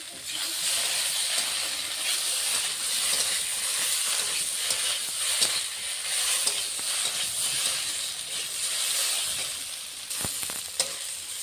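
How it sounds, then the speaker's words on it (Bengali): Potatoes and cauliflower sautéing with spices in a pan for a fish curry with spinach, giving a steady, loud sizzle and hiss with occasional stirring scrapes and clicks throughout. "আলু কপিটা মশলার সঙ্গে ভালো করে কষিয়ে নিচ্ছি"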